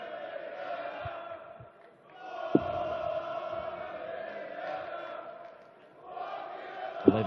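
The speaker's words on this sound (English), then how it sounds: "The Leverkusen crowd with their first acknowledgement of the 16-time world champion." Darts crowd in Leverkusen at a European Darts Open match cheering for Phil Taylor in two swelling waves of shouting and applause, with a commentator talking over it.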